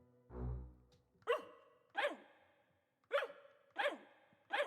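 A sigh-like low breath, then five sharp, separate barks at roughly even spacing, clear and close, with quiet gaps between them.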